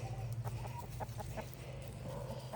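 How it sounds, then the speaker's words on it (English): Chickens cluck inside a deep-litter coop on a farm: several close, overlapping short clucks and soft calls over a low steady hum, with no talking. "So anyway, these are my chickens"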